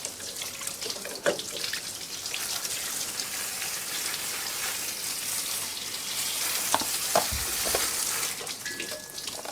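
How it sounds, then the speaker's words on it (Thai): Pressurized water sprays and splashes steadily while a car air conditioner is rinsed during a DIY repair, a continuous wet hiss with occasional drips and knocks, fairly quiet and with no speech. "ล้างออกไปรอบหนึ่งก่อนนะครับ ล้างล้างล้างให้ทั่วนะครับ"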